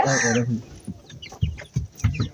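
Chickens cluck in short bursts close by, with one louder squawk at the start and a crowd of birds murmuring behind.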